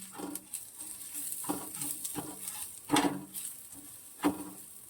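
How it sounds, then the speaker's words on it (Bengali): A spatula scrapes and mixes onions fried with dried chilli and salt in a pan, with irregular close scraping strokes and a few louder knocks. "এবার এটা ভালো করে মেশাতে হবে"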